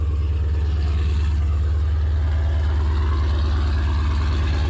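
A gas-powered Subaru WRX STI engine runs steadily at idle, a loud, close, continuous low drone with an even pulsing rhythm and no voices.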